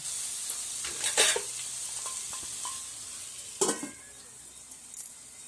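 Tomato chutney cooking in a pan is stirred, giving a soft continuous sizzle with a few scraping strokes of a spoon, moderately quiet and near, no voices.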